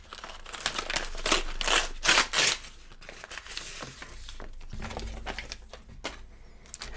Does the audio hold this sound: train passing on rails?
no